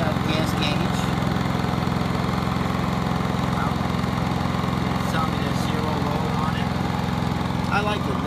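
Westinghouse iGen4500 super quiet portable inverter generator running with a steady, even engine drone and hum, constant in level throughout, with faint speech-like sounds over it.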